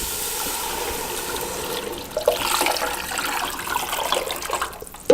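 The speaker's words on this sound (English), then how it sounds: "We're gonna go ahead and add 4 cups of hot water." Hot water is poured into a pot of sauteed onions and mushrooms, a steady splashing rush that builds midway and then trails off into a trickle.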